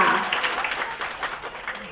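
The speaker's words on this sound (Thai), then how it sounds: "ขอเสียงปรบมือให้ว่าที่เจ้าบ่าวของเราอีกครั้ง" Steady applause from a wedding reception audience in a hotel ballroom fills the room, dense, moderately loud and continuous throughout.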